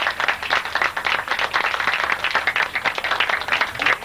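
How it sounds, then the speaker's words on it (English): Audience applause at a 1992 cat show, steady close clapping from a crowd sustained evenly for the whole stretch, with no talk over it. "let's hear a big round of applause"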